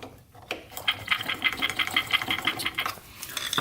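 A pump mechanism on a 500cc Honda-swapped tractor, freed after being stuck, moving up and down in a fast, steady rhythmic clatter of repeated mechanical strokes, close and fairly loud with no talking.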